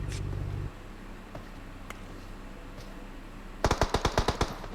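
Rapid automatic gunfire from an enemy in a video game, a tight burst of about eight sharp shots near the end, following a stretch of low engine rumble and background noise.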